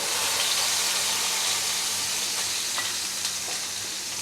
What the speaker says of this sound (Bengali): আমি এবার এই গরম তেলের মধ্যেই পেঁয়াজ বাটাটাকে আমি অ্যাট ফার্স্ট